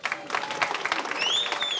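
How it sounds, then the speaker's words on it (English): An audience claps steadily in dense, crackling applause for a guest at a Three Stooges tribute event, with a faint voice and light tones beneath it. "Applause for the son of Mo, Mr. Paul Howard."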